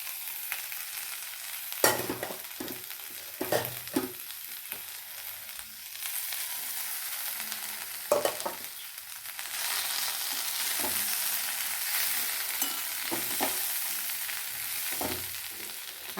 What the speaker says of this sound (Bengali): এটা আমি একটু সামান্য নাড়াচাড়া করে নেব